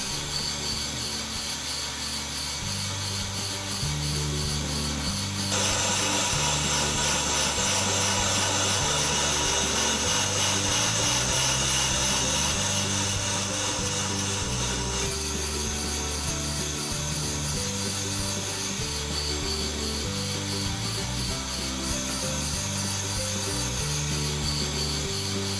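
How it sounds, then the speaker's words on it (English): A brake lathe cuts a car's brake rotor, a continuous loud metallic grinding and rasping drone with a pulsing low hum that stays steady for the whole stretch, no voices. "Now we set the machine to cut the rotor."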